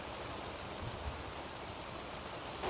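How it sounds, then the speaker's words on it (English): Steady hiss of rain falling over a lake during a fishing outing, a dense, even wash of drops that stays constant and moderately faint throughout. "While we're sitting here in the rain,"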